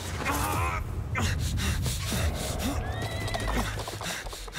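A horse neighs and whinnies in Prince of Persia: The Lost Crown, with breathy snorts and hoof clatter amid dense game sound effects.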